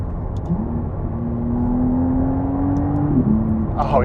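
A McLaren Artura's V6 engine hums steadily while the car is driven, a smooth, moderately loud drone that rises slowly in pitch and then drops back, with faint road and wind noise underneath.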